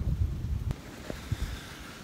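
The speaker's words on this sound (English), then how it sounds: "It's really, really windy." Strong wind gusts roar and rustle around a hunting tree stand outdoors in the cold, a steady low rumble of buffeting with a few small knocks, fairly faint.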